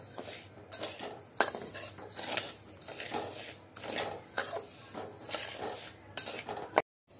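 Rice roasts dry in a metal pan while a utensil stirs it, making repeated scraping strokes and light clinks of metal on metal at an uneven rhythm, close up and fairly quiet.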